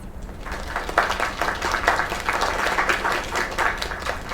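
A crowd applauding steadily for a few seconds, a dense patter of many hands clapping at moderate volume.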